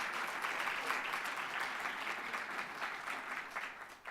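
Audience applause for Scott at a Georgetown event, continuous crowd clapping of even strength that runs throughout and tapers slightly near the end.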